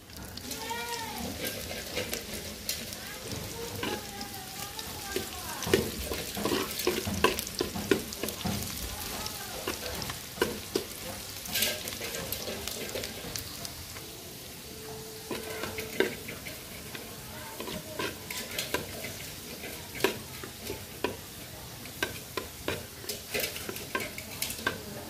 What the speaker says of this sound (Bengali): এখানে পেঁয়াজ আর রসুন দিছি, এটা ভালো করে ভাজবো